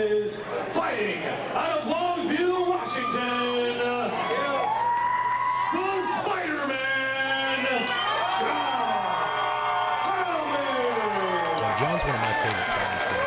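A crowd at a fight event cheers and whoops loudly and continuously, with a commentator talking over the noise.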